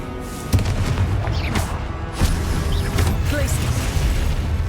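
Confringo explosive spell blasts in Hogwarts Legacy, a few dull booming bursts over a dense, noisy battle backdrop with faint voices.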